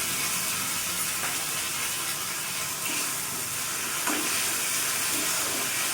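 Ginger garlic chili paste sizzling with onions in a pan, a steady dense frying hiss throughout with occasional faint stirring clicks.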